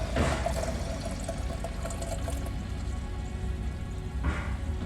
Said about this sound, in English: so we're just gonna fill up a little glass.